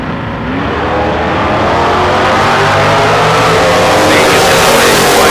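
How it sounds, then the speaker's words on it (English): A '63 Corvette and a Nova run a bracket drag race, their engines making a loud, continuous broadband roar that swells and builds over several seconds, heard from trackside. "So Rob Neighbor in the 63 Corvette, Mangus in the Nova."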